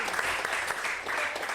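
Applause from a live interview audience, a dense steady wash of many hands clapping close and continuous throughout, with no clear pauses or speech over it.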